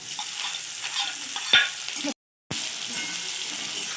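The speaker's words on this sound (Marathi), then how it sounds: "आता कांदा टाकून घेणार" Onion fries in a pan with peanuts, green chillies and curry leaves, giving a continuous close sizzle with a sharp clatter of stirring partway through and a brief silent gap before the frying resumes.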